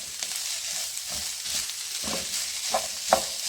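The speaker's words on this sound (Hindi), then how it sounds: "सब चीज़ों को अच्छी तरह मिक्स कर लूँगी मैं" Boiled mashed potatoes being stirred together with red chillies, black pepper and salt, giving soft scraping and mixing sounds with a steady hiss and a few sharper clicks near the end, with no talking.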